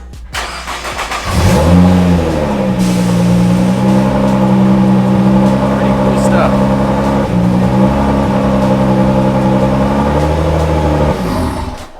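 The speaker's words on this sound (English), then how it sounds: "We can actually start the car just by pushing the button on the app" A Nissan GT-R engine, started by remote start, turns over and catches, then idles loudly and steadily nearby for several seconds before shutting off.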